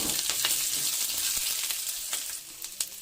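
Large onions and green chillies sautéing in a pan for a raw papaya poriyal, a steady close hiss and sizzle with occasional soft stirring scrapes and pops, no voices.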